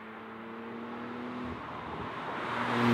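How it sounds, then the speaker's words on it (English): Porsche 991.2 Carrera 4S with a turbocharged engine driving, a steady mid-level engine drone with tonal harmonics that swells louder toward the end as it accelerates. "I haven't driven a turbocharged car that sounds that good"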